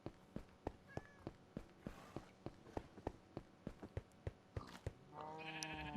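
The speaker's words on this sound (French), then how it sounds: "les moutons, ils sont en train de défoncer la pelouse" Sheep in the Minecraft video game bleat over a steady run of evenly spaced clicking thuds, like blocks being placed or broken. A louder, overlapping burst of bleats comes at the end.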